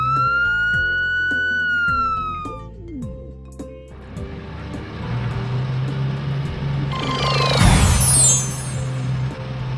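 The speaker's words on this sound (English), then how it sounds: "Black police car." A police siren wails in rising and falling sweeps, then traffic noise and a vehicle engine rumble in, with a burst of hissing brakes and chirps near the end.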